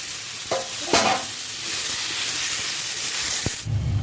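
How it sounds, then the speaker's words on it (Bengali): Boiled giant taro pieces fry in hot oil in a wok, giving a steady close sizzle and hiss with a few brief stirring clatters, before the sound cuts off near the end. "দেখো আমার পুরো ভাজা হয়ে গেছে"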